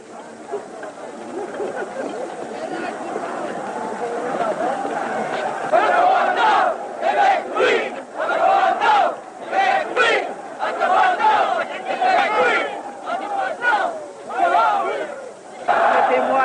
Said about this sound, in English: They shouted, "Quebec oui, Ottawa no," and they booed and threw snowballs at the Minister of Industry and Commerce